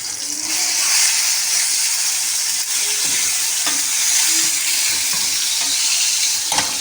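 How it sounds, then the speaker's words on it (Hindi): Dal tadka sizzles and fries steadily in a pan with a bright crackling hiss as black pepper is added, punctuated by occasional clinks and stirring sounds. "अभी हम इसमें अपनी ब्लैक पेपर ऐड कर देंगे।"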